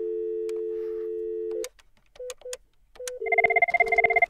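A VoIP phone gives a steady continuous dial tone that stops, then short tone blips and a burst of paired-frequency DTMF keypad beeps as a number is dialed, all close and clear with no talking.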